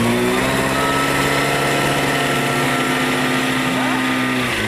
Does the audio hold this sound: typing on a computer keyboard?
no